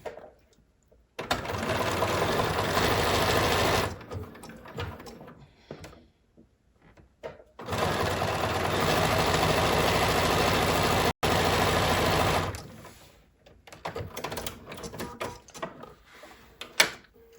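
A BERNINA sewing machine stitches fabric in two long continuous runs, a steady close whirring hum that starts, stops, then starts again, with quiet handling noises in the pauses.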